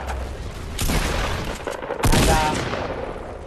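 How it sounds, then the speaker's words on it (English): Gunfire in the Fortnite video game comes in two loud bursts about a second apart, the second with a booming impact, heard alone with no talk. "I'm going to again try and get the shot off on him"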